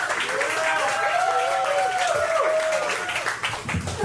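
Applause from a stand-up comedy audience welcoming a contestant, a steady wash of clapping under the host's voice calling out over it.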